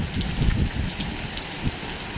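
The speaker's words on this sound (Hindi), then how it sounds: "तेज़ आ गई बारिश।" Heavy monsoon rain pours down steadily, a dense close hiss of drops striking surfaces with no voices over it.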